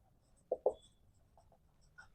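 Handwriting while noting the steps of an electricity bill calculation: two short, distinct scratches of pen or chalk, then fainter strokes, quiet and close with no talk.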